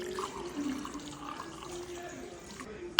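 Water pours steadily into focaccia dough in a home kitchen, a soft, continuous splashing trickle heard close up and fairly quiet, ending with a small clink.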